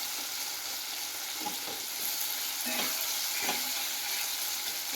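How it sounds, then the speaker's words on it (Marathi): Tomato frying in oil in a pan with salt added, a steady close sizzle with occasional stirring scrapes, fairly loud and continuous with no talking. "टॅमॅटो चांगला तळला गेला पाहिजे,"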